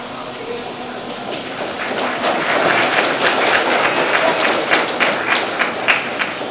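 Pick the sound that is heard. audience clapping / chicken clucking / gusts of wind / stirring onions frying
audience clapping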